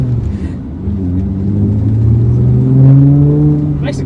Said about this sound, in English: Like for a 6-cylinder, it genuinely sounds not bad.